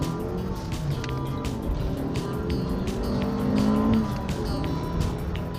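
A 1992 Acura with a 1.7 liter B17 engine pulls hard under acceleration, its engine note rising and droning loudly from inside the car over road and tire noise.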